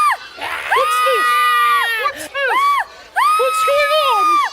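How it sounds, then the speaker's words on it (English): A crowd of cartoon children screams and shouts together in loud, sustained bursts with rising and falling shrieks, briefly breaking off twice before resuming. "Why is everyone screaming?"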